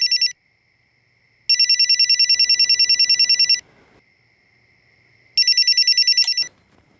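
An electronic telephone ringtone trills in regular bursts late at night, a short burst, then a long ring, then another ring cut off near the end, loud and clear with quiet gaps between.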